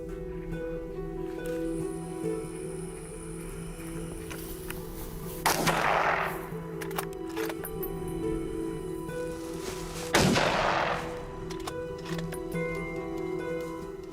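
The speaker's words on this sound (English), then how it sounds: "Shots ring out one after another, each one deadly." Two sharp rifle shots ring out several seconds apart during a wild boar hunt in rugged wilderness, each a loud crack that quickly fades over a steady background hum.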